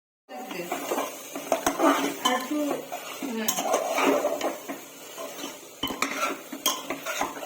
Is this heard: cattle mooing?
no